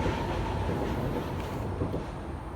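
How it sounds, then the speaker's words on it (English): A train rolls past steadily and close along a walking route in Bukit Batok, Singapore, giving a continuous broadband rumble and rail noise with no voices over it. "Here comes another train."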